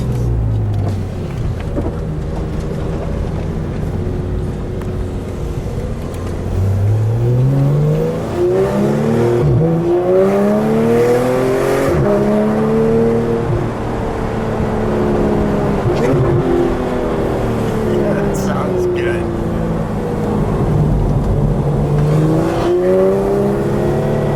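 A 2016 Porsche GT3 RS engine revs repeatedly through rising and falling sweeps, loud and close, heard from inside the car with steady road noise throughout.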